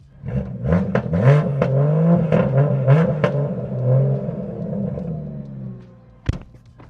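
A car exhaust with its valves fully open revs hard, loud deep roaring blips rising and falling close by, then tapers off into a quieter idle with a sharp pop near the end.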